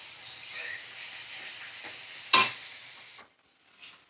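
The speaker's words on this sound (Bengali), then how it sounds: "দেখো ভালো করে ভাজা করে নেব পেঁয়াজটা।" Onions frying in a pan with salt and Kashmiri red chilli powder, stirred with soft scrapes under a steady sizzle, one sharp louder clank near the end before a brief quiet.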